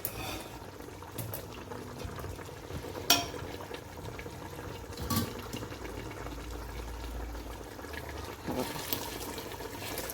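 Water pours steadily into a cooking pot of cooked chicken and soaked rice for pulao, a continuous close splashing and bubbling with someone talking intermittently over it.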